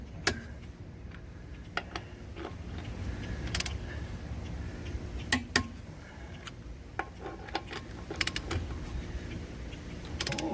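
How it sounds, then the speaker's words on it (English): A torque wrench clicks sharply several times while wheel lug nuts are tightened after a tire plug, isolated close ratchet clicks scattered over mechanical handling noise, with no talking. "You get click, click, you're good. If you got the torque wrench set right."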